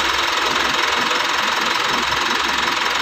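Mitsubishi Montero engine idling steadily just after an oil change, a continuous close mechanical rumble with faint knocking texture and no talk.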